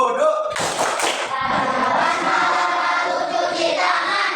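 Children in an Islamic religious education classroom clap together in a quick rhythmic routine, sharp repeated hand claps forming a steady pattern, with voices chanting along throughout.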